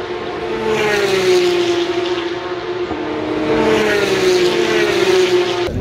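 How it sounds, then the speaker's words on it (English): Porsche Supercup race cars passing at the Spa circuit, a loud, rattling engine roar with a steady high pitch that swells and dips as cars sweep by, heard from trackside with no talking. "those fucking Porsches rattle your insides, they're so loud"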